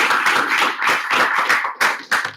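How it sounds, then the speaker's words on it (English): A few hands clapping at a State of Schools event for Frank and Connecta, sparse and uneven bursts rather than a full crowd, with two sharper claps near the end before it fades. "Another round of applause for Frank and Connecta."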